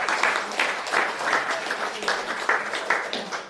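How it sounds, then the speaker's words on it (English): An audience applauds the startup pitchers, dense steady clapping from a crowd in a room, fairly loud and sustained, with no talking. "So a big round of applause for everyone who pitched."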